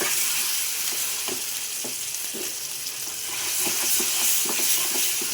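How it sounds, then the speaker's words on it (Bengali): Food fries in hot oil in a pan, a steady loud sizzle with soft scraping stirs cutting through it every second or so, close and without talk. "একদম ভাজা ভাজা করব যেন উপরে তেলটা উঠে যায়"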